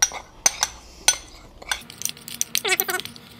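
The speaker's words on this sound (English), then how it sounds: "or in the bowl and mix it up" Spices and dry ingredients for blackened yellowtail snapper stirred in a bowl, with a run of light clinks and scrapes of a utensil against the bowl, irregular and close, with a short whistling tone near the end.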